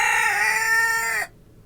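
A rooster crows once, loud and close, with a harmonic, slightly falling call lasting just over a second before cutting off.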